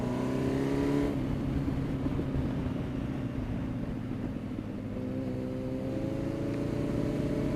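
A loud Yamaha FZ1 motorcycle engine runs steadily and close on a winding road, its pitch climbing in a sustained high rev with a brief dip early on, no voices.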